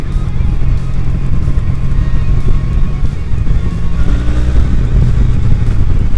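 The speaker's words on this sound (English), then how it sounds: "the feel, the vibe of this little parallel twin engine is just something else" Steady, loud engine drone of a classic-style motorcycle with a 900cc parallel-twin engine cruising, with a low rumbling throb and wind noise throughout.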